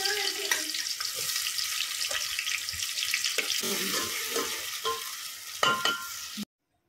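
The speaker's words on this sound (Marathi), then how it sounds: "तेल गरम झाल्यावर त्यामध्ये आपण आता कांदा टाकून परतून घेणार आहोत" Onion sautéing in hot oil in a pot on the stove, a continuous near sizzle broken by scraping stirs and a few spoon knocks before it cuts off abruptly.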